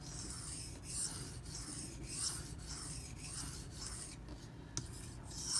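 A Benchmade 9400 automatic knife being sharpened on a diamond plate to minimize the burr, heard as soft repeated rasping strokes in an even back-and-forth rhythm, close and quiet, with no talking.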